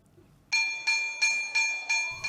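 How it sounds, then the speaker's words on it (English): A metallic school bell in Makwanpur, Nepal, rung for the lunch break, struck in a steady series of five or six clear ringing hits about a third of a second apart, each ringing on, fairly close and alone. "As the school bell rings for the lunch break, children rush out of their classrooms"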